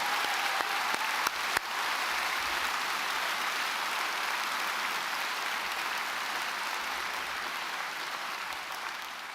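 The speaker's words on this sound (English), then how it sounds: "So can I ask you to give a big round of applause to all the DCU folk who made" Loud, sustained applause from a university graduation audience at DCU fills the hall, with a few sharper claps near the start before the dense clapping holds steady and fades slightly toward the end.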